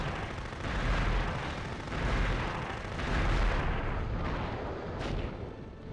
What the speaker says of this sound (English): Who on earth is shooting me?